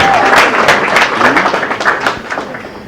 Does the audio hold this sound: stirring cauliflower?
no